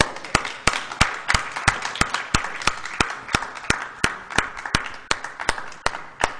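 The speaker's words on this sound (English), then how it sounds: "let's give one more round of applause to Mr." An audience applauds at the end of a Granada Forum lecture on common law, its claps landing in sharp, evenly spaced, almost rhythmic beats that stay loud and close and continue without talk.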